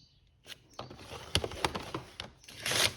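A paper trimmer blade slides and clicks across card stock while scoring it, giving a series of soft ratcheting clicks and scrapes that build to a louder scrape at the end.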